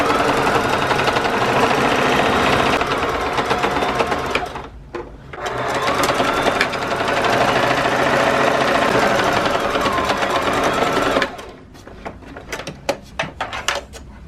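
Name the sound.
sewing machine quilting fabric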